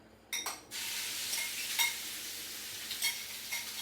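Raw shrimp sautéing for a Cajun shrimp soup, stirred around a hot pan: a brief clatter at the start, then a steady close sizzle with occasional light scrapes and taps of the utensil.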